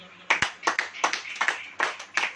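A church congregation claps in unison, a steady series of sharp, fairly close claps with a few spread, overlapping ones, keeping an even rhythm for a couple of seconds.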